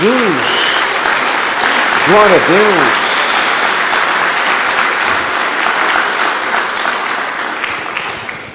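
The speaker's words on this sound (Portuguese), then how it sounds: "Dê uma salva de palmas a Jesus." A church congregation applauds steadily throughout, dense broadband clapping that fades slightly toward the end, while a voice shouts praise over it in the opening seconds.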